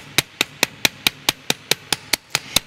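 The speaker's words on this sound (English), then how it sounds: "now we kind of hammer the edges a little bit" A small hammer taps the edges of a metal jewelry hinge on a hard surface: about eleven sharp, evenly spaced metallic strikes in a steady rhythm, close and clear with no talking.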